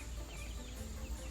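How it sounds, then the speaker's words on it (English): A chicken clucking softly near a farm greenhouse, a brief, faint run of low clucks with no talk over it. "You caught a chicken."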